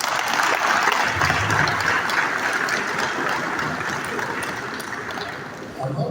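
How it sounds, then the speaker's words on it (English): An audience at a Lagos real estate conference gives sustained, loud applause, a thick, hissing roar of many hands that fades slightly toward the end. "I think it deserves a bigger round of applause."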